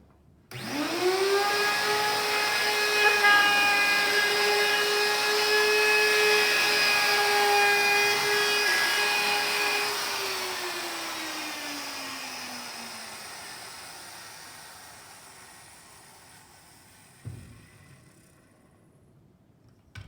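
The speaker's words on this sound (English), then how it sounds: "the router is a little bit louder and you probably won't be able to hear me" A wood router shaping a cutting board, its high steady whine running loud for about ten seconds, then winding down in pitch as it spins to a stop, followed by a brief clunk.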